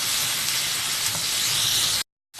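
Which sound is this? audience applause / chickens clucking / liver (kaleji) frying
liver (kaleji) frying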